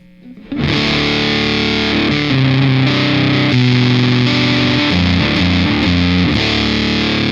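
Thick, fuzzy distorted electric guitar chords through a Voodoo fuzz pedal at low volume ring out loud and sustained after a brief quiet start, with changing notes and heavy buzzing saturation.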